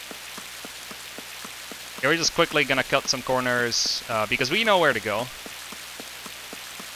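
Steady rain falls throughout in the video game Spectrobes, a soft continuous patter beneath someone talking in the middle of the clip.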